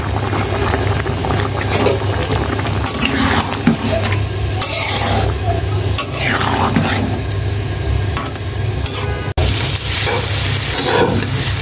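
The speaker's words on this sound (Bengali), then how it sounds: "মাছটা রান্না হয়ে গেছে, এখন ধনিয়া পাতা দিয়ে দিব। ধনিয়া পাতা দিয়ে একটু নেড়ে চেড়ে নামিয়ে ফেলবো।" Fish curry with fresh coriander leaves sizzles in a pan as a spoon stirs it, a constant close frying hiss with a few scraping and clinking strokes throughout.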